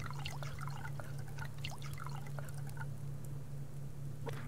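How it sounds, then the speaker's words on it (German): Water being poured in the survival game Subsistence, a steady faint trickle and splash running throughout with scattered small drips and splashes, no talking. "Wasser wollte ich kippen, erstmal."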